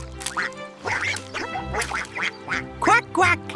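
Bright, cartoonish duck quacks repeat in quick succession, close and loud over a soft musical background on a farm.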